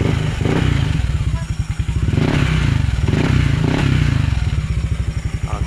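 A Yamaha Aerox 155 scooter engine, just repaired after an ignition coil problem, idles steadily and close by with a rapid, even putter and light mechanical clatter, holding a constant pace with a slight rise in the middle.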